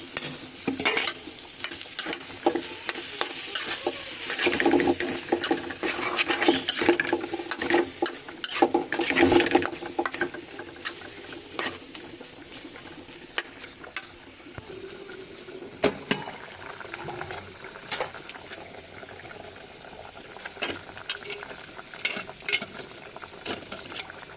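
Small shrimp and chillies frying in a pan, a close steady sizzle with scraping stirring strokes and occasional clinks of the utensil, no talk.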